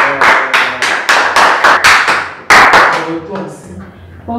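Church congregation applauding together in rhythmic bursts of clapping, loud and close, fading out toward the end as a voice begins to speak.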